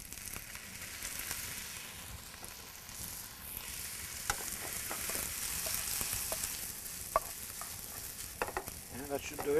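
Rice sizzles and fries steadily in a pan with browned garlic and a few drops of soy sauce, close and continuous with occasional stirring scrapes and clicks.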